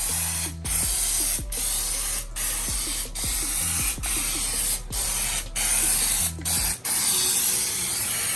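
A foam sprayer hisses loudly and continuously onto a car in long bursts during a waterless wash, broken by short pauses and a mechanical pumping clatter between them.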